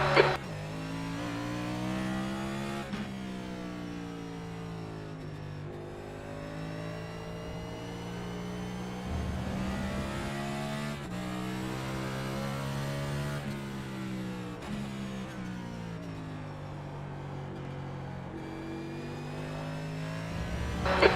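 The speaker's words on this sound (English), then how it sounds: "There's a car approaching." A Next Gen Cup Car Camry race car in a racing simulator game at Road America, its engine droning steadily and loudly with rising and falling revs as another car approaches, shifting pitch through gear changes, with no talking.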